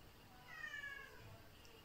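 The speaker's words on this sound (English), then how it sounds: "Why are you meowing in my video?" A cat gives a single brief, faint meow, a short rising cry over low background hiss.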